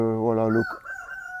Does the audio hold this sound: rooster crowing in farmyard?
yes